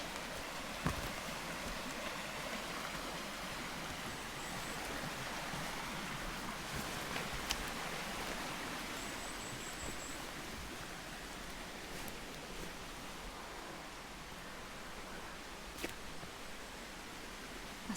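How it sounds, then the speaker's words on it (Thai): Water flows steadily in a dark forest in Norway where wild mushrooms grow, a constant faint broadband wash with occasional soft drips. "เสียงน้ำไหล"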